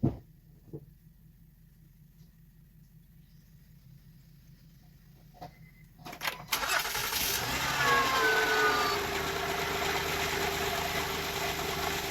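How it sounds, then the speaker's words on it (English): A 2015 Honda Pilot Touring engine cranks briefly, then catches and starts, settling into a steady loud idle after several quiet seconds. "We're going to crank the engine a little bit."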